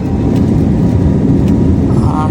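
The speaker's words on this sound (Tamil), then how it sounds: "டெல்லியிலேருந்து ஃப்ளைட் இப்போ மூவ் ஆகிடுச்சு." Passenger airliner beginning to taxi away from Delhi on a flight to Andaman, a loud steady cabin engine rumble and roar heard from a window seat inside the plane, with a faint tone near the end.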